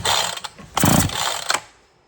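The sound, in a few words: tightening down a spark plug on a Husqvarna chainsaw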